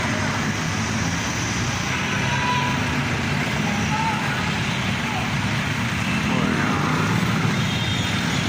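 Heavy street traffic at the Recto and Avenida corner in Manila produces a continuous dense roar of engines and road noise, loud and close, with talking mixed into the din throughout.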